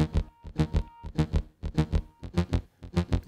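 Offbeat synthesizer part in a music track, sounding as a steady run of short pulsing chords that land in an even rhythm, loud and alone with no talking.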